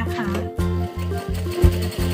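An electric sewing machine stitches elastic onto the waistband of men's trousers, running in steady rhythmic bursts of needle chatter with short pauses between runs, close and moderately loud.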